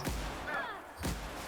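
Gunfire in the video game The Outer Worlds, two loud sharp reports roughly a second apart, each with a quick decaying tail, with a faint tonal sweep in between.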